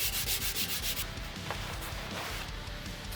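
Sandpaper rubs back and forth over a wooden cabinet, grinding through its old clear finish in steady close strokes, rhythmic at first and then a more continuous scratchy rasp.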